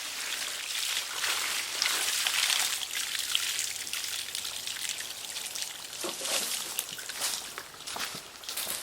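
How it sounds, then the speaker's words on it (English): Fresh water pours from watering cans into an outdoor bird bath, making a steady close splashing trickle that swells into heavier gushes and then eases off. "When I do refill it with fresh water, I usually do 2 cans to get rid of the leaves that sort of falls into the water."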